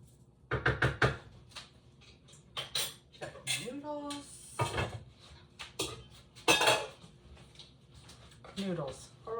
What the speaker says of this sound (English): Let's give this a quick stir.